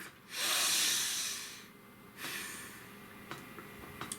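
A deep breath is drawn in with a long, airy hiss and then slowly exhaled. Faint soft rustles follow in an otherwise quiet room.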